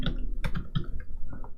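Typing on a computer keyboard while coding, a quick irregular run of close, distinct key clicks of varied loudness, with no talking.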